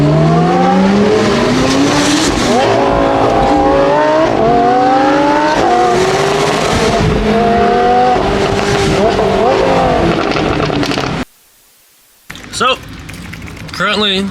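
Sports car driven hard, with engine revving up and down through repeated rising gear pulls, loud and close, a brief tire squeal and a sudden cutout near the end.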